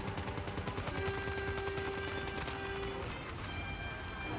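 Rapid gunfire rattles through a stretch of Death Stranding 2 gameplay, dense repeated shots layered over steady game music and tonal effects, loud and continuous for the whole stretch.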